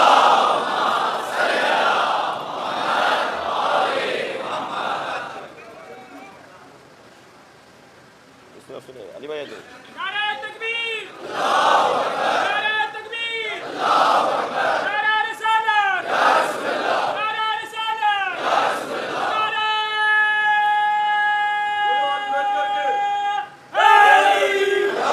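At a majlis gathering, a crowd recites salawat together in loud surging chants, broken by a brief quieter pause, with a lone voice leading between the group responses.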